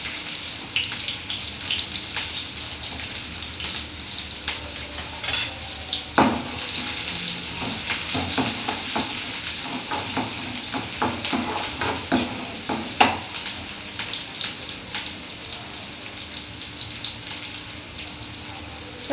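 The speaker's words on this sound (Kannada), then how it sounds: "ಆಮೇಲೆ ಚಟಪಟ ನಾನು ಉಳ್ಳಾಗಡ್ಡಿ ಹಾಕೋತೀನಿ." Cumin and onion frying in hot oil in a home kitchen, a steady close sizzle with occasional stirring scrapes and clinks throughout, no voices.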